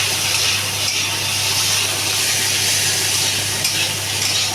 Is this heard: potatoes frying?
yes